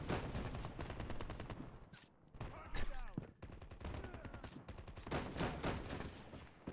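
Video game gunfire sounds as dense, loud rapid bursts nearly throughout, with a brief lull holding whooshing and ringing effects before the shooting resumes. A sniper rifle is being fired in the match. Nobody speaks.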